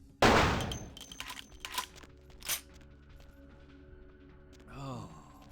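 Gunfire in a vampire role-playing game erupts as one loud burst up front, followed by a few scattered quieter shots and a brief gasp-like game voice near the end.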